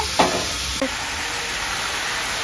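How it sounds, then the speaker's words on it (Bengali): Cabbage frying in a pan gives a steady, loud sizzle throughout, with two brief scraping stirs near the start; no talking. "আর এই দেখো এইখানে বাঁধাকপি হচ্ছে"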